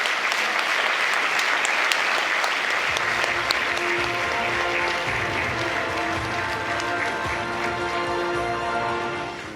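Sustained audience applause at an Afreximbank annual meeting after a speech, a dense, loud wash of many hands clapping that holds steady for several seconds without voices over it.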